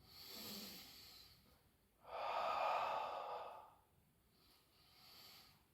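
Slow, audible breaths in and out, paced to a floor exercise of leg raises, swell and fade in long, soft cycles close to the microphone, with no talking.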